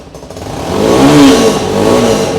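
A 2024 Tekken 250 motorcycle with a 250cc engine idles close by, then briefly revs up into a louder, rising swell around the middle before easing back to a steady run.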